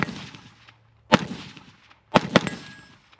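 An AR-15 rifle (DB15) fires sharp, loud shots at a steel target outdoors: one crack, then a close pair about a second later, each followed by a short ringing decay, with no talk.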